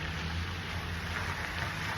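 Steady rain falls through a cold, wet Alaskan evening outside a hotel, making a soft, even wash of hiss with no clear breaks and no voices.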